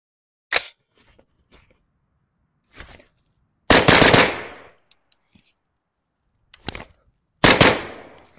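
Rifle shots fired at a cardboard target outdoors: five loud, sharp reports spaced a second or more apart, some with a longer echoing tail, and brief quiet gaps between them.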